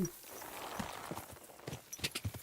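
Horse hooves clip-clop in Kingdom Come: Deliverance II, an uneven string of soft, fairly close knocks at a walking pace with quiet background sound.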